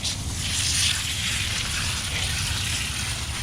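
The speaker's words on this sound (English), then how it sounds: "Hot water." Hot water gushes steadily from a tap while a tie-dye shirt is rinsed, a constant close hiss and splash with no pauses or voices.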